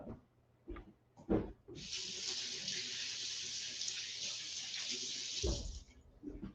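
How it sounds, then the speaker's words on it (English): Green onions rinsed under a running kitchen tap, a steady, fairly loud stream of water splashing for about four seconds, framed by brief knocks and handling sounds before and after. "I'm just going to give them a quick rinse."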